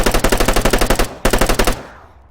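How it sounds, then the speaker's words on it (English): Fully automatic rifle fire in Arma 3, a loud, rapid burst of about a dozen evenly spaced shots, a brief pause, then a shorter burst of five or six rounds trailing off into a fading echo. "Fully automatic. It's not bad. Not bad at all. It gets those rounds out very quickly."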